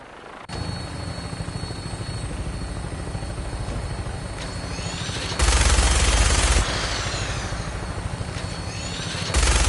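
An aircraft flying in the video game Fallout 4 gives a loud, steady rotor-like drone throughout, with a sudden harsher burst of rapid gunfire-like noise in the middle before the engine roar carries on.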